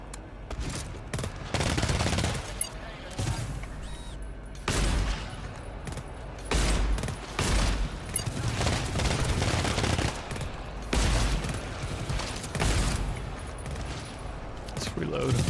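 An automatic turret firing in the co-op shooter GTFO, repeated bursts of rapid shots in clustered waves, fairly loud and near, with a player talking between bursts.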